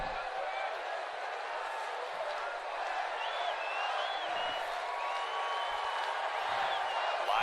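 Padres and Dodgers fans fill Petco Park at a baseball game with a steady, lively crowd roar, heard at a distance beneath a commentator talking over it.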